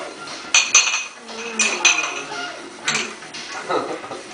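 Glasses clink in a toast in a few bright, sharp taps spread across the clip, close and clear, with voices talking between the clinks.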